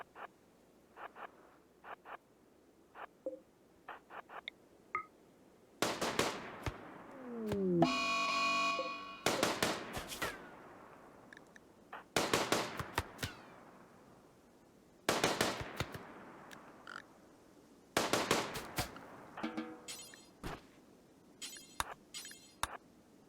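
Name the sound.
gunfire shooting animals in the video game RimWorld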